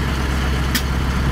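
Escorts Hydra 14 crane rolling forward, a loud, steady low diesel drone close by with one brief hiss partway through.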